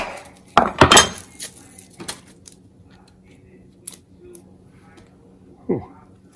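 A knife chops through an onion on a cutting board: a couple of sharp, close knocks and clinks early on, a few lighter taps later, and a final cut near the end, with quiet room noise between.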